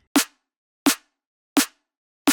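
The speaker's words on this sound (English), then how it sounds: "So snare without effect sounds like this." Four dry, unprocessed drum and bass snare hits sound alone at an even, steady pace, each a sharp crack with a quick decay into silence.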